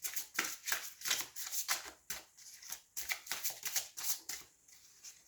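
Tarot cards being shuffled for a reading, a close series of quick riffling and flicking bursts in an uneven rhythm, soft and without talk.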